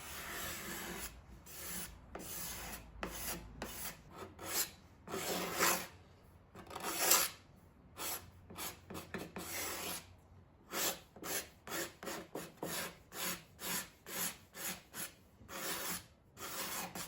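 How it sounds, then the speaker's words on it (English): A hand scraper works across hardwood end pieces of a box, producing repeated rasping strokes that settle into a steady back-and-forth rhythm, close and fairly loud with no voices. "I used a scraper and was pleasantly surprised how well that worked"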